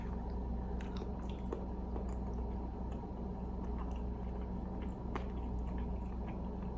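Cooked rice is bitten and chewed close up, with soft squishy mastication and faint crunchy clicks running steadily over a low background hum.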